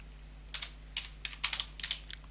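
Keys clatter on a computer keyboard in quick irregular bursts as someone types a search, crisp and close against a low steady electrical hum, with no speech.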